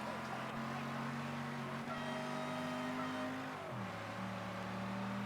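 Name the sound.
car horn honking in the video game Mafia III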